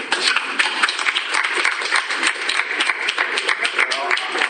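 A crowd at a boxing post-fight show gives promoter Eddie Hearn a round of applause, a steady patter of clapping with uneven peaks that continues throughout.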